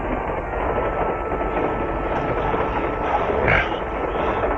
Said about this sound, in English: Train goes fast.